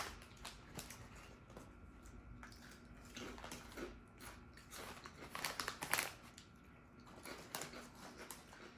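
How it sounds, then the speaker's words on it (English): Crunchy Panera Bread chips are bitten and chewed, giving quiet, close crunches and crackles in irregular bursts, with a louder cluster of bites partway through. "I love how crunchy their chips are."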